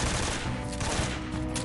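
Dense, loud bursts of automatic rifle fire from an enemy soldier in Metal Gear Solid 3: Snake Eater, sounding continuous and rapid from start to finish, with no talking.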